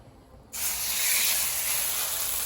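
Chicken chapli kebab, Peshawari style with green chilies, lowered into hot oil; a loud, steady sizzle bursts in abruptly after a short quiet moment and keeps hissing close up.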